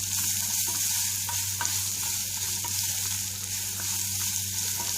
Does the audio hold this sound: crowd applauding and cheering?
no